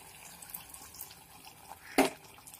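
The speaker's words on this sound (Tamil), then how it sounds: "இப்போ இதோட நம்ம 1/2 டம்ளர் தண்ணி சேர்த்துக்கலாம்." Half a tumbler of water is poured into chicken gravy in a home kitchen, making a single short, faint splash against a quiet background.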